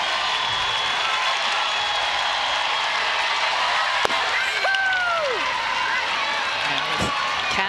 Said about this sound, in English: here comes the home crowd